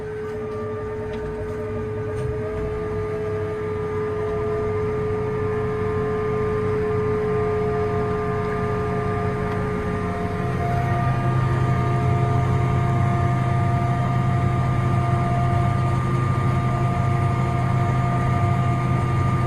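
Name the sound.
John Deere tractor throttling up, laying tile pipe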